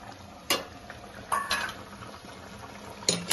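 Milk goes into a simmering paneer butter masala: a quiet bubbling, sizzling pot with a few sharp utensil knocks and scraping stirs against the pan.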